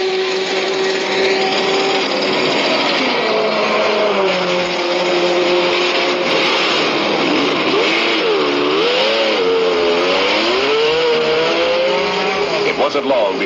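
Racing sports cars from the 1970 World Championship in Project Cars 2, with Porsches and a Ferrari, roar continuously with wavering, shifting engine tones and tire noise, a voice talking over the loud racing throughout.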